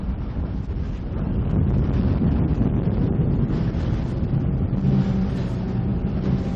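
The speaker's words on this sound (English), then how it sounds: "Very windy." Strong wind buffeting the microphone during a state championship sailing race, a loud constant roar with rushing water and boat noise underneath, no voices.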